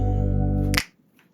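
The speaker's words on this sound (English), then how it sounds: "I decided to follow within the Motown tradition and add some finger snaps over the click track" A single sharp finger snap cuts off a sustained tonal hum in a folk-turned-psychedelic ballad, followed by near silence with a faint trailing click.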